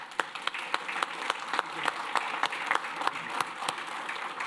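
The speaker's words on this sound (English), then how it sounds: "So I want to give them a round of applause." Audience at a parish council meeting applauding school board members, a steady wash of many hands clapping at moderate distance with no speech over it.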